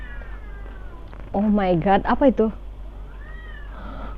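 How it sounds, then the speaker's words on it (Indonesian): Cats yowl and caterwaul in a drawn-out, wavering cry of rising and falling pitch, loud and fairly close, with a startled voice speaking just before. "ada suara kucing lagi berantem,"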